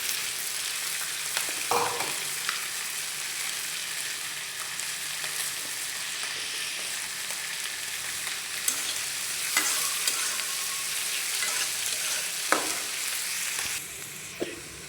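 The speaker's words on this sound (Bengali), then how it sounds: "পেঁয়াজগুলো তেলের ভিতরে দিয়ে দেবো।" Chopped onions fry in hot oil for a fish bhuna, a steady low sizzle with occasional scrapes and knocks of stirring in the pan.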